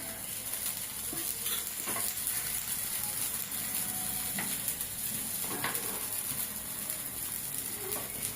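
Fresh green pea tikkis shallow-frying in a pan give a steady, close, crackling sizzle throughout, with occasional soft scraping and clicking from turning or stirring.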